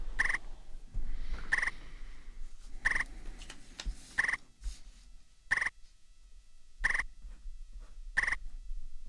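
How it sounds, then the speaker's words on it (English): Crickets chirping in a swamp witch adventure game, a faint, short chirping burst repeating at a steady rhythm about every 1.4 seconds over a low ambient bed, with no voices. "The sudden sound of crickets chirping make you think of home."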